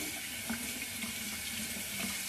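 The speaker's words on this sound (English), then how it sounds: "Rinse out the mechanism, plop this back in." A Gillette razor is rinsed under a running tap. The water pours in a steady, close, loud rush that stays even throughout, with slight splashing changes as the razor moves in the stream.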